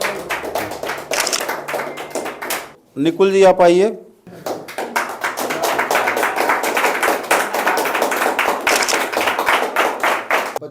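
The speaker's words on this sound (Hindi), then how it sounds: "कल्पेश जी के लिए जोरदार तालियां।" A tea business training audience claps for Kalpesh, dense, close hand claps running for several seconds, breaking briefly while someone speaks into a microphone, then resuming loudly.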